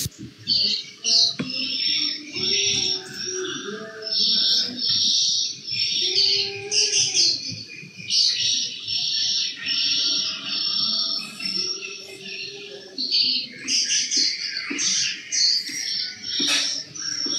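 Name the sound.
birds chirping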